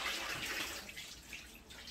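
Water is poured into and emptied from a flowerpot used for growing bean sprouts, a soft continuous splashing and trickling, faint and close, with no talking.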